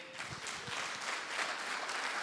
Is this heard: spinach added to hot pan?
no